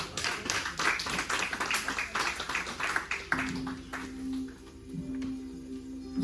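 A church congregation applauding: a steady run of many hands clapping, then thinning out to scattered claps as a sustained organ-like tone enters.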